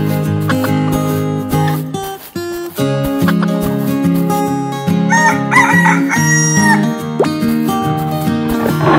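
A rooster crows amid a dense, layered musical backing with steady tones, the crow rising clearly above the busy accompaniment.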